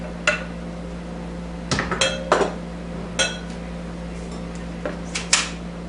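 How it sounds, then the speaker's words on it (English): A spoon scrapes and clinks against a dish while sliced zucchini and yellow squash are stirred in, giving a few scattered soft knocks over a steady low hum of a kitchen fan. "I'm just going to stir that in."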